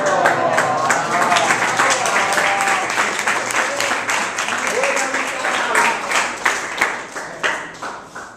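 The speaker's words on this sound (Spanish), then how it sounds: "quiero que repitan los aplausos para la grabación" An audience at an ESPOL ICQA ceremony, where a famous quotation is read, applauds warmly. The clapping stays loud and steady, then thins into scattered individual claps near the end, with some voices mixed in.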